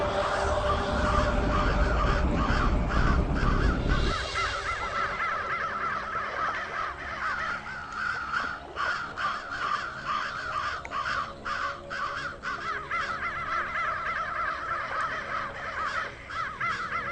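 Many crows caw repeatedly and overlapping in a noisy flock, harsh calls layered continuously close by, with a heavy low rumble in the first few seconds.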